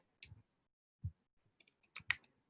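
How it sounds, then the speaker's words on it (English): Sparse keystrokes on a computer keyboard, a few soft isolated clicks followed by a quick cluster of taps near the end, quiet and close with no talk. "I'm just typing it."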